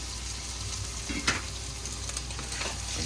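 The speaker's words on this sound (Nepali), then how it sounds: "यो प्राउनलाई मैले चलाइदिन्छु यसरी।" Prawns fry in a hot pan with onion and spices, giving a dense, continuous sizzle with a brief stirring scrape partway through, close and loud without speech.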